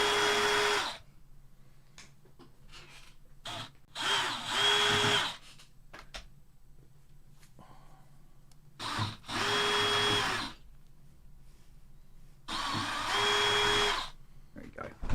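A power drill drives screws in short bursts, several separate whirring runs of a few seconds each, close and loud, separated by quieter gaps with faint knocks and handling noise.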